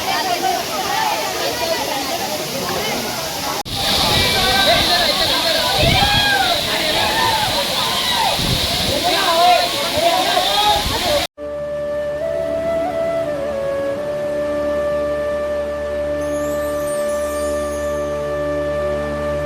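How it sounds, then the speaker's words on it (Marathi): The Bhivpuri waterfall roars as a loud, continuous rushing wash of water for about eleven seconds, then cuts off abruptly and gives way to steady tonal music. "धबधबा बघूया."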